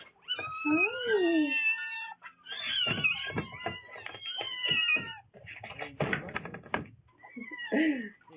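A cat meows repeatedly at feeding time, a run of loud, drawn-out, wavering cries close by, broken by short pauses and a burst of rustling or knocking near the end.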